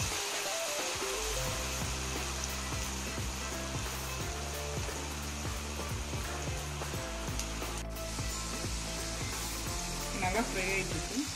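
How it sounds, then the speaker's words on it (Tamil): Battered potato chips frying in hot oil, a steady dense sizzle and bubbling throughout with a brief sharp clink near the end. "எண்ணெய் சூடாகிட்டு கொஞ்சம் ஒழிச்சு போட்டுருங்க"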